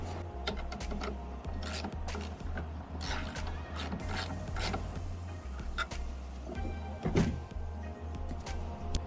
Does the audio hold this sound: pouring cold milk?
no